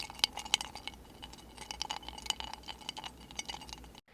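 Round ice spheres clink in a glass of iced tea, a series of light, sharp ticks and chimes spaced irregularly over a quiet background.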